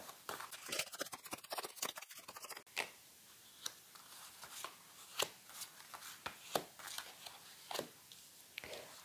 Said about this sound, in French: Allez, on mélange les 5 cartes.